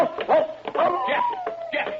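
Dog barking in a radio horror drama, several short yips and barks in quick succession, fairly close and moderately loud, with a faint voice-like tone running through.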